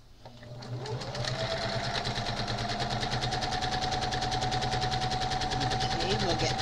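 A sewing machine winds up from a slow start into a fast, steady mechanical whir of rapid needle strokes, stitching crazy-quilt pieces close to the listener, with a voice speaking over it.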